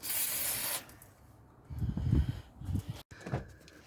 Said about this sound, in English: I'm putting a little bit of WD silicone into the bonnet latch end